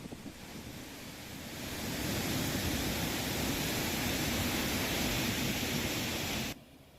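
Water rushes from two opened gates of the Survo-1 dam after heavy rain swelled the inflow, a loud, steady broadband roar that holds evenly before cutting off abruptly near the end.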